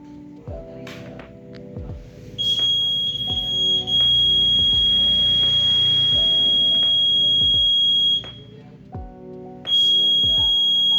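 A buzzer on a simple Arduino radar built with an HC-SR04 ultrasonic sensor, servo and LED gives a shrill, steady electronic tone in two long stretches, with soft clicks and mechanical ticks between them.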